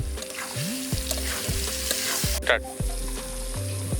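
Food sizzles and is stirred in a hot pan with salt and spices, giving a steady frying hiss broken by scraping strokes, close and fairly loud.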